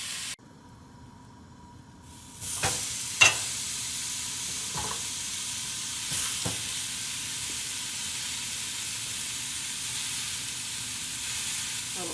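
Fruit sizzles on a hot grill at a home cookout, a steady close hiss that starts after a brief quiet and carries on with a few faint clicks and scrapes, with no talking.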